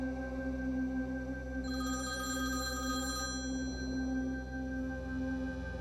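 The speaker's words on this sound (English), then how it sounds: "the lobby phone rang" An electronic hotel lobby telephone ring sounds in a repeating burst against a steady humming background, loud and close.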